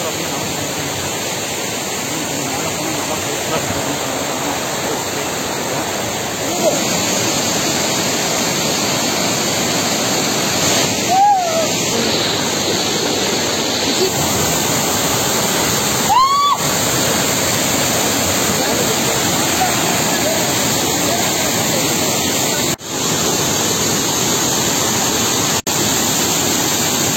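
Marnatti waterfall roaring steadily with rushing water, a loud, dense, unbroken wash of sound close by, with no talk over it.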